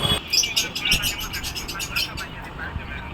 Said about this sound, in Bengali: আর এখানে দেখো পাখিগুলো কীভাবে চিচু করছে